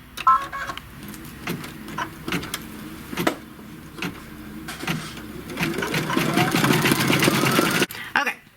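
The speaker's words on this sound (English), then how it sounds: "It finished stitching the tack down." A home sewing machine stitches a tack-down through glitter sheet, a rapid mechanical hum that ramps up into a sustained run before stopping, with some small clicks earlier on.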